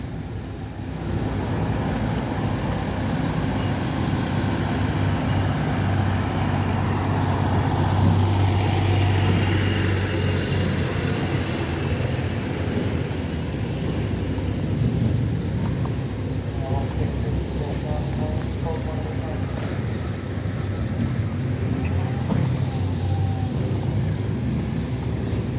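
Road milling machine grinding asphalt off Humboldt Avenue, a continuous heavy rumbling churn with mechanical clatter and passing vehicles, while a person talks over the noise.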